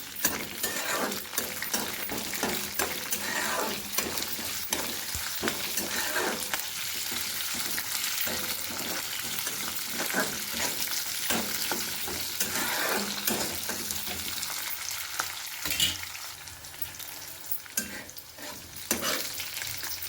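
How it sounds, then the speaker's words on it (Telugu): Garlic cloves and green chilies sizzling steadily in a hot pan for gongura chutney, with occasional stirring scrapes and clinks of a spoon against the pan throughout. "వెల్లుల్లి రబ్బలు కొద్దిగా వేగిన తర్వాత పచ్చిమిర్చి పదిహేను వేసుకున్నాను"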